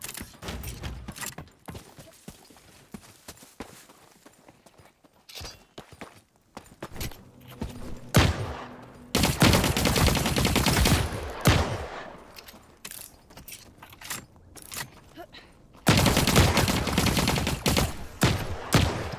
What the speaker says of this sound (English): What the fuck are you guys shooting at?